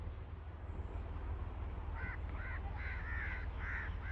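Crows feeding on grain in a farm field caw several times in short harsh bursts, moderately distant over a low steady background rumble.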